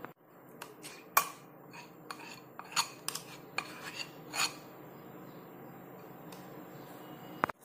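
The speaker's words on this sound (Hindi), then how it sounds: "और अच्छी तरह से हम इनको मिक्स करेंगे" A spoon stirring cream and whipped coffee in a bowl for dalgona ice cream, giving scraping, clinking strokes in an uneven rhythm, near and fairly quiet.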